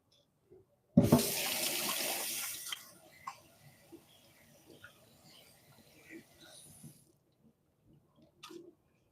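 Hands being washed under a running tap at a sink, a steady gush of water for about two seconds, then quieter splashes and handling sounds, with a person talking.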